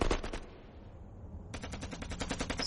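Close-range automatic gunfire in a war movie scene, dense rapid bursts of loud cracks that pause for under a second and then resume just as intensely.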